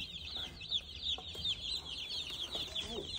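Baby chicks peep in a continuous, busy chorus of high chirps that repeat rapidly and stay fairly close, with faint low rustling underneath.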